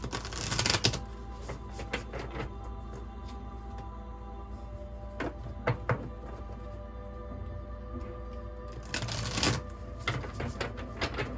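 Oracle cards from an Angels and Ancestors deck riffled and drawn: a crisp burst of shuffling at the start, a few soft card flicks in between, then another riffle near the end, close and quiet with no talk.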